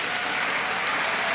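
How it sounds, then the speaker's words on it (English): Arena crowd at a 2014 BWF World Championships badminton quarterfinal claps steadily, a broad, even roar of applause from the stands, heard at moderate distance. "Punk applauds the supporters here in the Better Up Super Arena"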